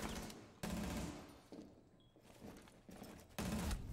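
Bursts of automatic gunfire from the tactical shooter game Rainbow Six Siege, loud and close, with heavy volleys at the start and end and lighter shots between.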